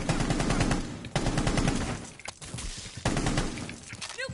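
Rapid bursts of automatic gunfire rattle through a ranked Rainbow Six Siege match, several sharp volleys separated by brief pauses, loud and close.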